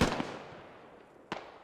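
Gunfire crackles in the military shooter game Squad, a sharp burst at the start and another distinct shot later, both fading into reverberant quiet, distant and fairly faint.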